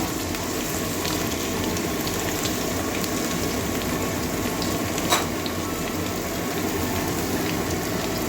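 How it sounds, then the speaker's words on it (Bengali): Pointed gourd (potol) pieces frying in hot oil, giving a steady close sizzle with dense crackling throughout and one brief sharp pop partway through. "লাল লাল করে ভাজবো"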